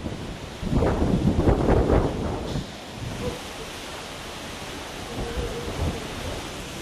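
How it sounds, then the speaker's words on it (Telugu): During an unseasonal storm around Jammalamadugu in Kadapa district, a heavy roll of thunder rumbles for about two seconds. Steady rain and gusty wind noise on the microphone continue afterward. "కడప జిల్లా జమ్మలమడుగు పరిసర ప్రాంతాల్లో ఈదురుగాలులతో కూడిన వర్షం పడింది"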